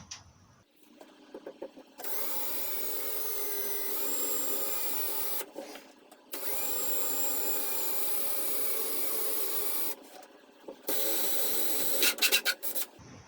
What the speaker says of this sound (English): And now I'm just gonna do a pilot hole